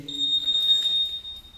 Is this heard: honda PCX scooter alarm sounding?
yes